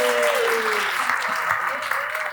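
An audience at a talk claps in a dense, steady burst of applause, loud and close, with a voice rising briefly over it.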